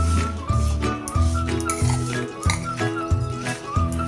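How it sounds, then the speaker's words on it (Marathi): A spoon stirs a mixture of grated mango and jaggery in a metal pot, making repeated clinks and scrapes against the sides in an uneven rhythm, close and fairly loud. "बघा, आता गूळ टाकून घेतल्यानंतर हे आता मिश्रण आपण एकसारखं हलवून घेऊया।"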